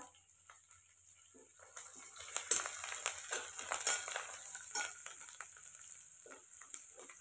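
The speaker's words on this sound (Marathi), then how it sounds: "कढीपत्ता छान तडतडलेला आहे" Curry leaves crackle and sputter in hot oil in a pan on a wood-fired stove, a dense run of sharp pops that builds midway and then eases, with no talking.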